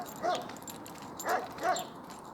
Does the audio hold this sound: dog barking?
yes